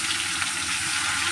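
Spicy chicken frying in hot oil, a steady loud sizzle with a bright hissing crackle, heard alone and close for a brief moment.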